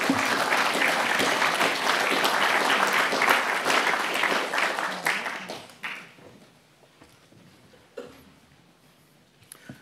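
Lecture-hall audience applauding to welcome a speaker onto the stage at a public astronomy lecture, dense steady clapping that fades out after about six seconds, leaving scattered coughs and room noise.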